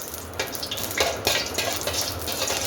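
Ghee melting and sizzling in a pan for pumpkin kheer, a steady close sizzle with scattered stirring and scraping clicks from a utensil, no voices.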